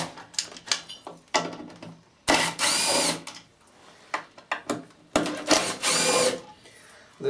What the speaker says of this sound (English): The trusty Makita impact screwdriver with the hot glue.